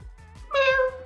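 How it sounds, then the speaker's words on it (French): A cat gives a single clear meow up close, with a soft steady backing tone underneath. "Il y a le chat."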